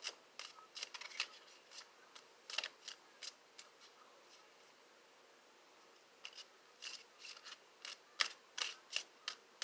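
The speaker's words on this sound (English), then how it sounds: "Shuffle your cards with your question in mind." Rapid bursts of crisp tarot card riffling and snapping, in short clusters with a pause in the middle, close and fairly quiet, no voices.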